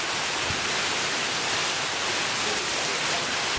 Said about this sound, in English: It started pouring.